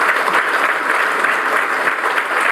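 An audience at a motivational business seminar claps steadily, a dense and loud burst of applause that stays even from start to finish.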